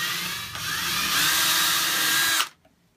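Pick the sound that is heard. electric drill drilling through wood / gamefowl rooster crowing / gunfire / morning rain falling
electric drill drilling through wood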